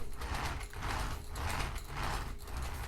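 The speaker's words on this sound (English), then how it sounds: "All you can hear now is the tyres." Tyres of a Tamiya Terra Scorcher RC car roll along, giving a faint, steady rolling whir with a soft rhythmic pulsing and light mechanical ticking from the drivetrain.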